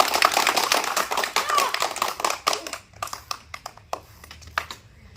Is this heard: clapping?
yes